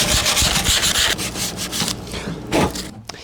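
Sandpaper rubbing over barn wood in quick back-and-forth strokes, loud and close, with a harsh scratchy texture that pauses briefly before a final burst of sanding.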